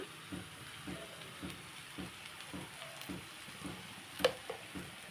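A curry of onion and broad beans fries quietly in a pan as salt and chili powder are stirred through, with a soft sizzle and regular scraping strokes of a spoon, plus one sharper clink near the end.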